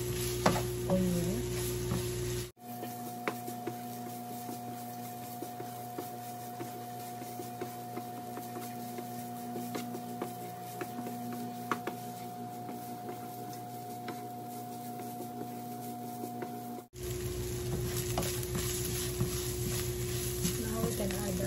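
Onion frying in a pan for bacon fried rice, a steady soft sizzle with a constant electric hum running through it, with brief louder kitchen noise at the start and end.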